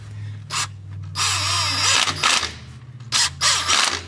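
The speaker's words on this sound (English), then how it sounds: "So we're gonna go ahead and torque all these down" A power tool whirs in loud, close bursts while the 10 mm transmission pan bolts on a 2015 Toyota Venza are torqued down, spinning up and stopping several times with brief clicks between runs.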